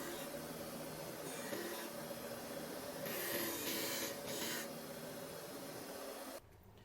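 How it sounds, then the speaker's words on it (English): Rosewood totes pressed against a disc sander give a continuous abrasive rasp and hiss, swelling briefly in the middle before the grinding drops away at the end. "And here I'm sanding them down to that pencil line disappears."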